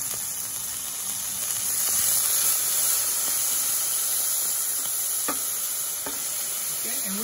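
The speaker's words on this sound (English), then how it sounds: "I'm going to add the capers and the black olives." Capers and black olives tumble into a hot pan of puttanesca sauce with garlic and anchovies, a steady close sizzle and hiss broken by a few sharp clicks of stirring.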